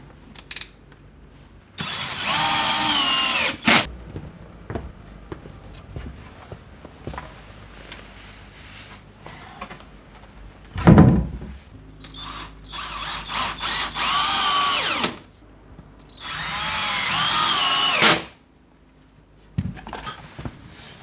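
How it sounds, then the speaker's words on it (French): A power drill drives screws into ceiling boards during ceiling insulation work with joists and OSB. Three loud, close whirring bursts of a few seconds each are separated by quieter shuffling and handling noises, with no talking. "Je vais visser ça."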